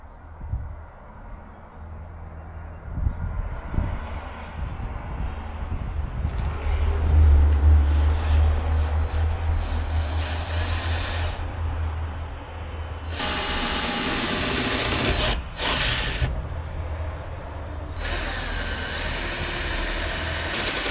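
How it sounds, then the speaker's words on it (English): A power drill bores holes into a camper topper in several bursts, bright whirring and grinding coming close and loud after a stretch of low handling noise, with no speech. "Then we drill some holes."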